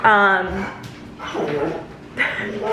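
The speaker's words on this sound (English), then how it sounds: "sorry, my dogs." A dog barks and yips loudly at close range in a home, several sharp bursts in quick succession, with a voice speaking between them.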